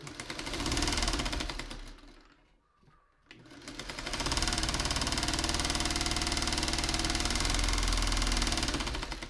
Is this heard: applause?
no